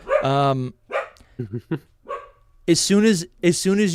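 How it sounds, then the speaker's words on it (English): A dog barks several times in loud, close bursts, alternating with someone talking indoors during a live stream. "Excuse my dog, he's paranoid."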